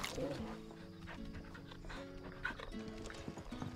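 A dog pants in the Final Fantasy XVI video game, quick rhythmic breaths under a voice, with soft hoof-like clopping and game ambience in the background.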